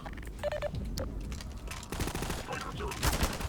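Rapid gunfire in Half-Life 2 during a grenade fight, a dense burst of cracks and impacts with electronic beeps at the start, heard under a voice.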